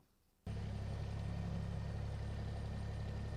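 A tractor engine starts up and runs steadily in the cab while plowing about 8 or 9 inches of snow, a loud low constant rumble after a brief quiet moment, with no talk.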